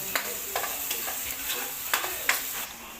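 Garlic and onion sauté in a hot pan, a steady sizzle punctuated by several sharp spatula scrapes and taps.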